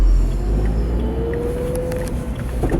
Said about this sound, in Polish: No jest to głośny samochód.